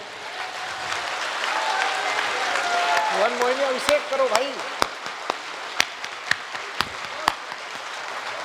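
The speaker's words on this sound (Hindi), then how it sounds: "जितने भी लोग हैं जो हनुमान चालीसा के फेवर में है सब 1 मिनट तक ताली बजा दीजिए" An audience at a Kavi Sammelan poetry gathering in Kotadi Charbhuja claps steadily as a dense wash of applause while someone speaks over it, then the clapping thins to a few sharp, isolated claps.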